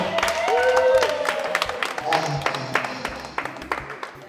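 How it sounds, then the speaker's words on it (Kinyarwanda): Wedding audience applauding, a burst of clapping that swells at first and then thins out, heard under a voice speaking over it. "mukomera amashyi menshi Imana"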